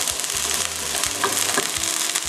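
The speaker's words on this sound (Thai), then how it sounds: "ตั้งไฟให้ร้อนอันนี้เราจะให้สุกแค่ผิวนอกนะคะ" Maguro tuna sears in a hot pan, cooked only on the outside, giving a steady, close sizzle and crackle with a few soft scraping knocks and no talk.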